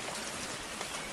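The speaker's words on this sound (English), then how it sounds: "It's not raining as hard now." Steady rain falling on outdoor surfaces during a thunderstorm walk, a dense even patter with no voices.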